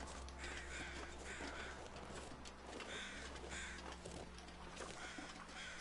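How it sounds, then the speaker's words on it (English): Crows caw repeatedly in The Long Dark survival game, several harsh calls at a moderate distance over a quiet wind-like background. "where are these crows?"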